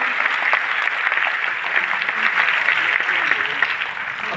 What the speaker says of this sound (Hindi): और एक बार जोरदार तालियां दिल से